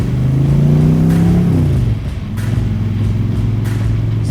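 An AC Cobra's engine revs up loudly on a cold winter morning, rising in pitch before dropping back and settling into a steady, throaty drone heard close by.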